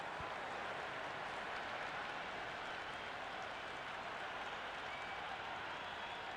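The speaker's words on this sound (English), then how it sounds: "It's evident and ever so audible that the crowd is at near bursting point at today's play." Cricket crowd at a live T20 international between the West Indies and Sri Lanka, applauding a four off the bat, a dense, steady roar of clapping and cheering that fills the whole stretch at even, loud volume.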